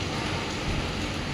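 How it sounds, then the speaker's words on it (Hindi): A steady, even hiss of light rain falling, close and continuous, with no voices. "हल्की हल्की बारिश हो रही है गाइस।"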